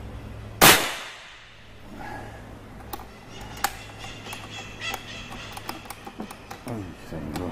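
One sharp, loud air rifle shot cracks near the start, followed by quiet clicks, handling noises and soft movement.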